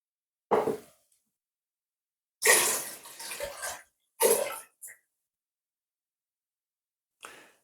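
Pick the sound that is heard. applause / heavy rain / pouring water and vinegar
pouring water and vinegar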